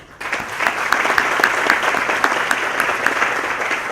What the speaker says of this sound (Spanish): Un gran aplauso para Jimmy.